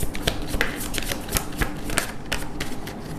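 Tarot cards being shuffled and handled up close: quick rustling flicks and light slaps in an irregular stream of crisp clicks, with no talk.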